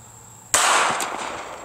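A .380 ACP full metal jacket round fired from a handgun strikes a frying pan, giving a single sharp, loud report that rings and decays over about a second.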